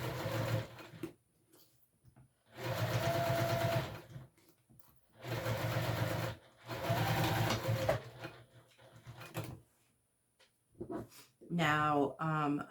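Sewing machine stitching a fabric wristlet in a home sewing room, running in several bursts of steady, rapid stitching separated by pauses, with brief talk near the end.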